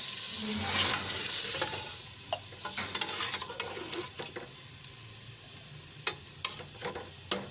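Water from a glass goes into a hot pan of potato and carrot curry, giving a loud hiss and sizzle that settles into a quieter simmer with occasional sharp pops and stirring clicks, and no talking.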